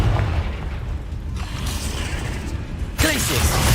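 Confringo explosive spell fired in Hogwarts Legacy, a continuous rumbling, mechanical wash that swells into a louder burst near the end, with no voices.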